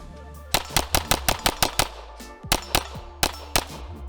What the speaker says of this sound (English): I'm dropping about as 1 or 2 shots per mag, maybe 3 shots on that one.